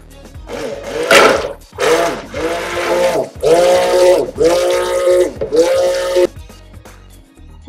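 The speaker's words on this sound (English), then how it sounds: "so as I blend this, I'll probably take out the sound and put in some music or something." Stick blender whirring in bursts through castile soap batter, loud and close, several pulses of steady motor whine separated by brief pauses.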